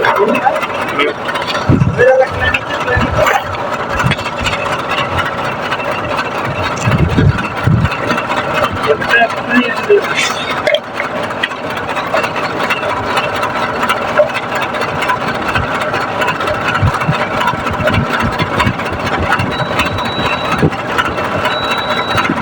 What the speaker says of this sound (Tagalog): testing muna natin ang compressor bago natin paandarin.